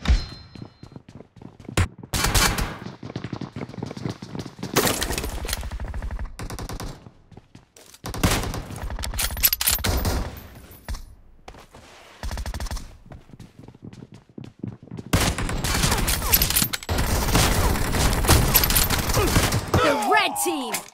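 Bursts of automatic gunfire from the BGMI battle game come in repeated loud clusters separated by short near-silent gaps, with a long sustained volley near the end, and some voice-like game sounds mixed in.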